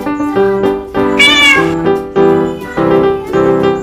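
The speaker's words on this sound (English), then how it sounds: "Cat." A cat meows clearly in a single drawn-out call over a bouncy children's tune, loud and close with no speech.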